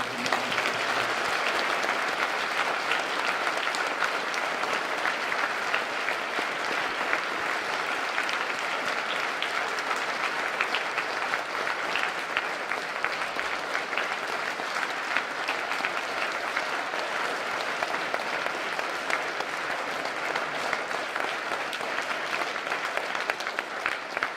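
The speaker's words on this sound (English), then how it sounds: "Would everyone please give our veterans one more round of applause" Sustained audience applause for veterans at a school Veterans Day program, a dense, even wash of many hands clapping that runs unbroken for the whole stretch.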